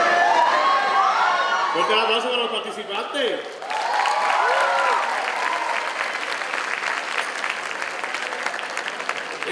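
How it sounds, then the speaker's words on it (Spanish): An audience claps for student participants in a services challenge. The applause is dense and continuous, with overlapping voices and sliding, siren-like tones sounding over it. "Fuerte aplauso para los participantes."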